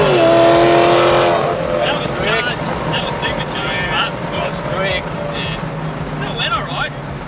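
A turbocharged RB30 engine in a Holden VL Commodore drives laps of a race track, its engine drone steady and loud with rising and falling revs while people talk over it.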